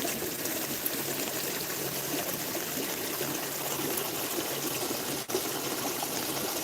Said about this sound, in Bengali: দেখে জলের স্পিডটা কম হয়ে গেছে জানিস তো